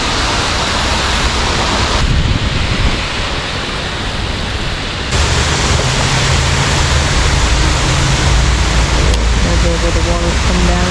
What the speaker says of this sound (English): There's where the water's coming down.